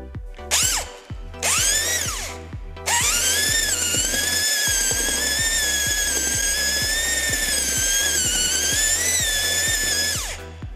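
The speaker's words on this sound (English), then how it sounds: "as you can hear, the drill's working a little too hard." A power drill whines loudly and steadily, bogging down and straining with brief stops and restarts, as a mixer churns through drywall mud that is too thick.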